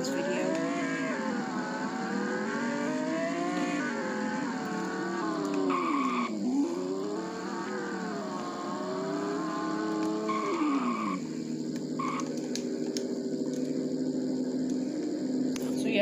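Car in the Roblox game Greenville braking hard, a steady engine tone sweeping down and up through repeated slowdowns with a tire-skid screech layered on top, loud and continuous throughout.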